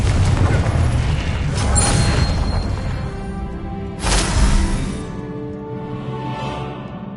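Confringo spell explosions in Hogwarts Legacy: two loud booming blasts roughly two seconds apart, each with a bright crackling burst, over a continuous rumbling battle din.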